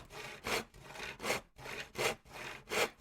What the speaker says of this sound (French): c'est un outil pour scier du bois, pour couper du bois